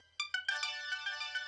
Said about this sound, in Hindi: हाँ बज रहा है फोन